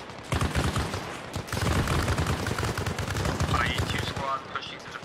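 Weapon fire in the military video game Arma Reforger, where a GP grenade launcher is fired: a dense run of sharp shots and bursts crackling across the scene, loud and close, with a short gap near the start and voices mixed in.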